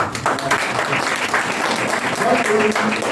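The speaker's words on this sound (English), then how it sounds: "Can we give her a round of applause, please?" An audience claps together in steady, dense applause that holds for several seconds, with some voices faintly audible beneath.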